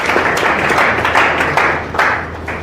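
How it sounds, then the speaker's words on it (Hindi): Students in a coaching class burst into loud, sustained clapping, a dense continuous patter of many hands filling the room. "अनुशासन के लिए एक बार जोरदार ताली बजाओ भाई।"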